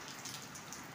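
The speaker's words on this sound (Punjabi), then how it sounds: "ਬਹੁਤ ਵਧੀਆ ਬਾਰਿਸ਼ ਹੁੰਦੀ ਹੈ ਜੀ।" Steady rain falls on an evening in Jhelum, Pakistan, a soft, even hiss of drops on surfaces with no talk over it.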